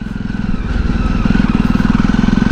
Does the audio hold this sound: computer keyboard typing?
no